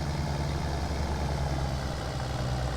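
A tractor engine idles in the driving game BeamNG.drive, a steady, low, continuous rumble that stays even and close, with no voices over it.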